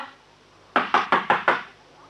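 Someone raps on a door five times in a quick, even series, each knock sharp and close, after a short quiet pause, in a radio drama scene.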